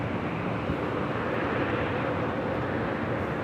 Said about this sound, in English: Delta 867 on Abdel Ray, runway 24 left, set for takeoff.